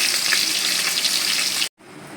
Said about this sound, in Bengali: এই দুটো মাছ এখন আমি ঝালতে দিয়ে দিয়েছি